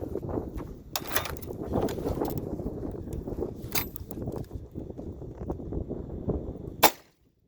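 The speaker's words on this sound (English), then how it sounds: "Maybe I should shoot that shovel." A 7.62x25 steel core round fired at a shovel outdoors: one sharp, loud, close crack near the end, after a stretch of rustling background noise, then abrupt quiet.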